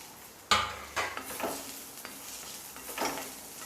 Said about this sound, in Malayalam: ഇനി ഇതിലേക്ക് നമുക്ക് ഈ മഞ്ഞൾപ്പൊടി കുറച്ചും കൂടി ഉപ്പ് ഇട്ട് കൊടുക്കാം.